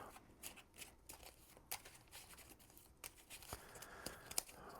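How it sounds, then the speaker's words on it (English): A deck of cards is given a quick shuffle during a Marvel Champions card game, with faint, soft papery flicks and riffles coming in irregular bursts with no voices. "Then for Hercules, give that a quick shuffle and get 6 cards."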